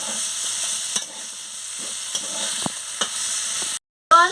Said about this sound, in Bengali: আলু আর পটলটা দিয়ে দিচ্ছি। দিয়ে ভালো করে আনাজের সঙ্গে কষিয়ে নিচ্ছি।